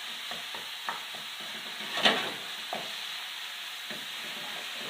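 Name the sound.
tomato base for dal sizzling in a pan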